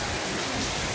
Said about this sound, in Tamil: ஊத்துது மழை